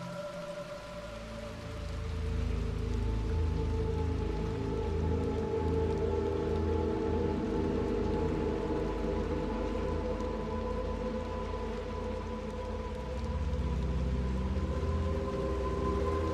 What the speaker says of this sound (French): je m'arrête lorsqu'il pleut dans un jeu vidéo et que je regarde le ciel